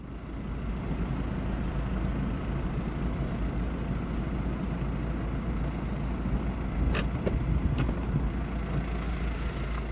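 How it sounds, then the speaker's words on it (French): A car engine idles steadily at close range, a low continuous rumble with a few faint clicks near the end. "je vais éteindre la voiture"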